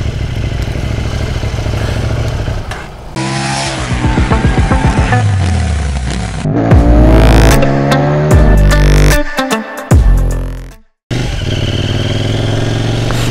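Motorcycle ridden low on fuel reserve, engine droning and rising through gear changes with wind rush, loud and close throughout with a brief cut near the end.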